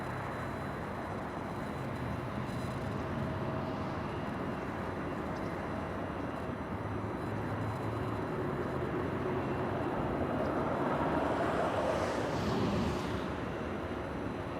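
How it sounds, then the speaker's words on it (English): A Delta Boeing 767 airliner bound for Honolulu roars steadily near LAX, a continuous, fairly loud broadband engine rumble that swells slightly toward the end. "The Delta 767 flying where it's flying to. Honolulu."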